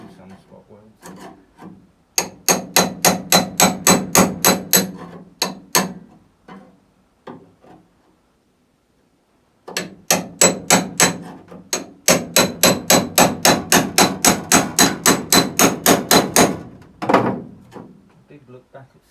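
Two long runs of sharp, rapid hammer blows on metal, hammering through spot welds on a Jeep CJ5 body, loud and close, separated by a quiet pause, with a few scattered knocks between.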